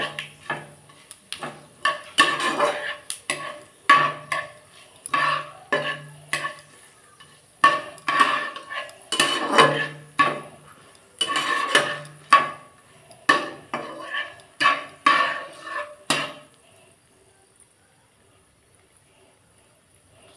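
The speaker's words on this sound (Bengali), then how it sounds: "একটু পাঁচফোড়ন দিয়ে দিলাম। দিয়ে বন্ধুরা এগুলো একটু ভেজে নেব।" Panch phoron five-spice frying in oil in a pan while being stirred, a run of close, rhythmic scraping and clinking strokes with soft sizzle for about sixteen seconds before falling quiet.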